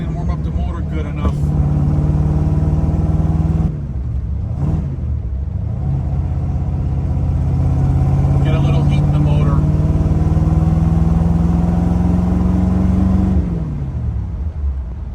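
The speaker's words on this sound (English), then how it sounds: "I didn't warm up the motor good enough." 1964 Corvette Stingray with a 327 engine running cold on a chilly 35-degree day, a steady close idle rumble with a brief dip and a slowly rising rev before settling, while someone talks over it.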